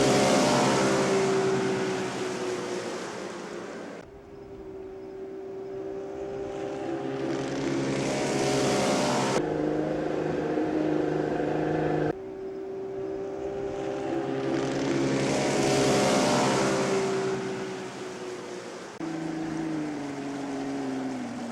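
A bass boat's outboard motor drones on and off, rising and falling in pitch as the boat runs, with brief cuts between passes.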